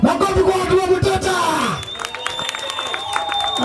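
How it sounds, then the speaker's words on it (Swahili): An audience bursts into loud clapping, cheering and whoops that fade after about two seconds, leaving scattered voices and light noise. "Makofi kwa watu wa muteta."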